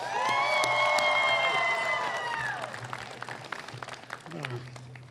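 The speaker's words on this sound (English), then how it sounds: "another round of applause for our True Worship dance team" Audience applause and cheering fill a hall at an MLK Day celebration after a high school dance team's performance, loud and sustained, with whoops and tonal shouts over the clapping before it thins toward the end.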